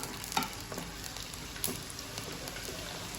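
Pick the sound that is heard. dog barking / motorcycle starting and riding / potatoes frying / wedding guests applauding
potatoes frying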